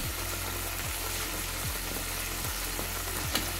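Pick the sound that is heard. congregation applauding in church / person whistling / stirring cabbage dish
stirring cabbage dish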